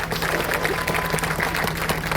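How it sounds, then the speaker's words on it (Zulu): An audience at a Zulu funeral breaks into sustained applause, a dense steady patter of many hands clapping close by for a couple of seconds. "ngicela simshalele ihlombe ubaba uNala"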